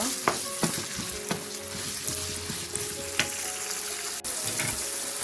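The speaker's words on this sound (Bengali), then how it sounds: "সব কিছু দিয়ে একটু ভেজে নিচ্ছি" Chicken and chopped capsicum frying in a pan for a tandoori chicken wrap, a steady close sizzle with repeated scraping knocks of a spatula stirring, fairly quiet and with no voices.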